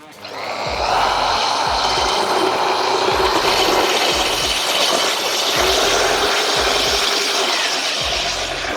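A water-fed core drill with a diamond core bit runs steadily and loudly, a continuous high whine over a broad rushing noise that starts within the first second and holds throughout.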